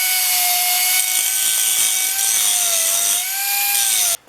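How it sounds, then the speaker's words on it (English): A grinder works over a weld on a cracked Stanley No. 5 hand plane. The loud, continuous whine wavers slightly in pitch as the tool moves, then cuts off sharply near the end. "And after the weld comes some grinding."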